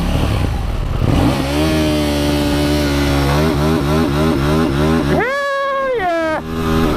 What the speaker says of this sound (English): Hold the revs open.